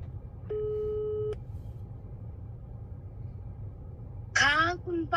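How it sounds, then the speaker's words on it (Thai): One telephone ring-back tone after a number is dialed lasts under a second against a low background rumble, and a voice then starts speaking. "ตอนนี้ผมได้กดโทรศัพท์โทรหาหญิงสาวรายนี้แล้วนะครับ"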